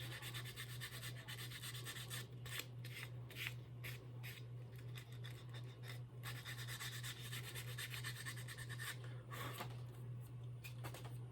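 Sheets of 220 grit sandpaper rub along the edges of a wooden gaff and boom, making quiet, repeated scratchy strokes in an uneven back-and-forth rhythm. The sound is close but faint, with no speech.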